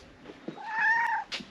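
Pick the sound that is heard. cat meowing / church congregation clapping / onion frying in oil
cat meowing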